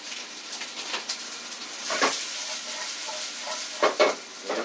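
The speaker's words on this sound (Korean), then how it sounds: "이렇게 야채가 잘 볶아지고 있습니다" Vegetables with a frozen seafood mix stir-fry in a pan for a seafood egg stew, giving a steady close sizzle with soft scraping stirs and a few louder clatters, no talking.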